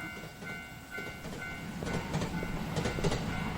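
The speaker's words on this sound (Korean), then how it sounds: "이 기차 소리 뭐야?" A train rolls past in a horror video game, a low rumble with rhythmic clickety-clack and faint tonal squeals, moderately distant and alone without talk.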